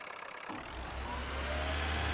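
A 60-horsepower tractor engine in Farming Simulator 19 drones steadily under load, a low, continuous rumble with a faint rising hum across the whole stretch.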